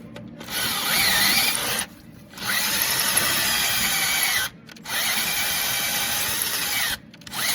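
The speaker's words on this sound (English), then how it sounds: "So now we got our 10 mil Rotobroach. Gonna cut in an 1/16 of an inch or so." A 10 mm Rotobroach cutter bores into a corroded exhaust stud on a Ford 6.2 engine, a loud, steady power-drill whine in three long bursts with short pauses between them.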